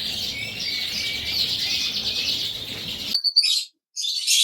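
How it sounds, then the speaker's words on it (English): Coloured canaries and native finches chirping and singing continuously together at close range in a birdroom, bright twittering that breaks off briefly near the end before resuming. "The coloured canaries and colour mutations and normal native finches."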